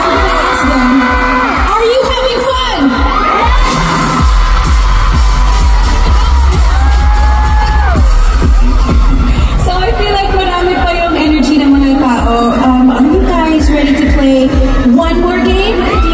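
Fans screaming and cheering at a fan meeting in Manila, a loud, continuous crowd roar with whoops and shrieks rising throughout, mixed with amplified talk and music.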